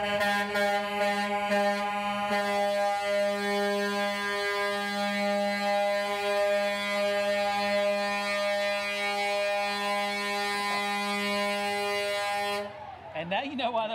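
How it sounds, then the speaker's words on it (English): Train horns blasting from a Redline Wreckers tow truck at a Dallas Christmas parade, one long, loud, chord-like blare held steadily for over twelve seconds before cutting off, with crowd noise underneath. "now you know why those are called train horns"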